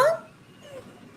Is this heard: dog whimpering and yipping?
yes